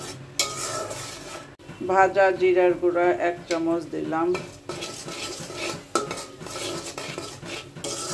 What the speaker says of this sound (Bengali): এখন আমি মশলাটা ভালোভাবে কষিয়ে নেব।